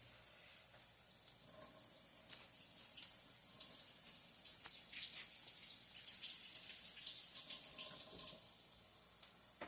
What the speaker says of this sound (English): Just got to take that to the sink and get it rinsed off.